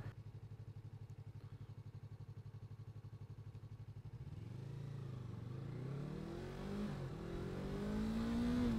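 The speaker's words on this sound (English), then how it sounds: "I now realize that I have to drag race this Dodge" A 2020 Yamaha R3 motorcycle drags off against a Dodge, its engine first holding a steady pulsing drone, then revving hard and climbing in pitch through the gears, loud and close with no talking.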